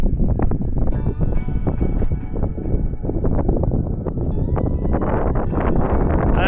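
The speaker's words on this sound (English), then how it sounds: "Wind. Oh no, it's coming!" Wind gusts buffet the microphone at a long-range rifle shooting range, a loud, continuous rumbling roar with rustling flutter and no let-up.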